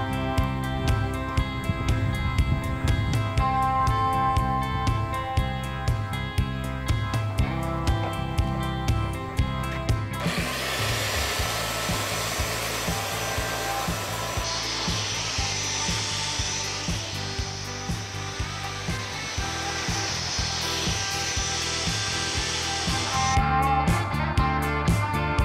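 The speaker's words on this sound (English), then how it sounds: "we're going to take this edger along" Along a sidewalk, a motorized lawn edger runs as it trims overgrown grass, a steady engine hum with a rhythmic pulse and a harsher rasping burst in the middle as the blade bites into the turf.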